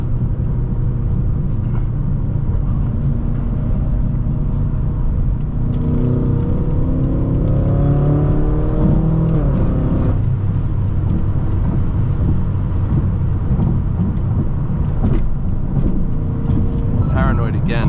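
Inside a Stage 2 800HP BMW M6, the engine hums loudly and rises in a rev before easing back through downshifts, with a heavy low drone running throughout.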